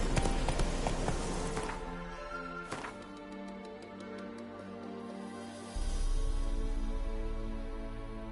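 Horse hooves clip-clopping in a steady trotting rhythm against a layered, tonal background, the hoof beats fairly close and continuous throughout.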